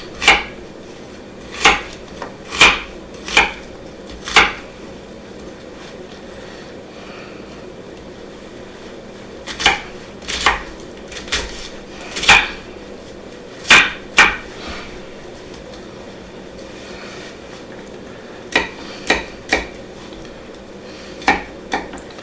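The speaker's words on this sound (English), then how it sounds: "now I can go ahead and just chop this" A knife chops on a cutting board while making pizza, giving sharp, close knocks that come in short irregular bursts with pauses between them. No one speaks.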